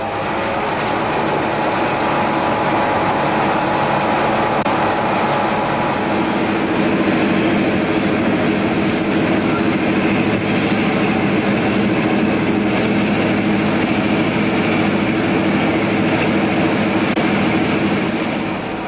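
A Newfoundland Railway train crossing the Avalon Peninsula rumbles steadily along the rails, a loud continuous roar of wheels and carriages heard from close by, with faint metallic squeals rising partway through.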